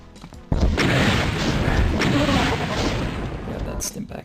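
A rocket launcher fires in the 1993 game Doom: a sudden loud blast bursts out, then becomes a heavy, sustained roaring rumble that fades slightly over about four seconds.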